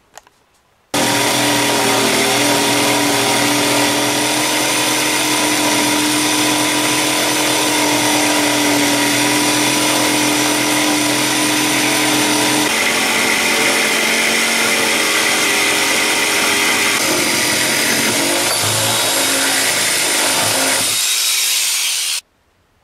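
A cheap $20 speed-controlled jigsaw with taped shoe saws through an aluminum 3D-printer bed plate, a loud continuous buzzing cut running about twenty seconds with a pitch shift midway, then stopping abruptly.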